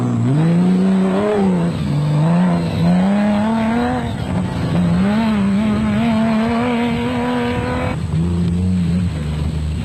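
Castrol Toyota Land Cruiser rally car engine roars loud and close, its harmonic note climbing and dropping through gear changes, with a brief break near the end before it pulls hard again.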